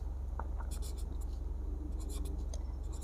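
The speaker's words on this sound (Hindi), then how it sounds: "इसका रूल लिखते हैं" Pen writing out the rule of a number sequence for a Class 6 maths exercise, faint scratchy strokes and small taps over a steady low background hum.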